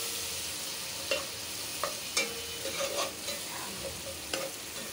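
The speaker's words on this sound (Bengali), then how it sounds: "মশলাটা একটু কষিয়ে নিই" Spice paste with garlic paste and sugar fries and is stirred in a pan, a steady soft sizzle broken by repeated scraping strokes of the spoon at an uneven rhythm, close and fairly quiet.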